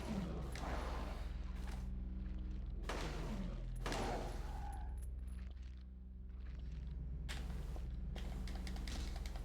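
Gunshots in a Silent Hill horror game: about five heavy, booming shots spaced a second or two apart, each with a ringing tail, over a low droning background, close and loud.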